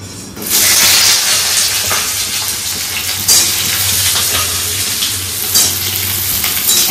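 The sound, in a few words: frying pointed gourd (potol) in oil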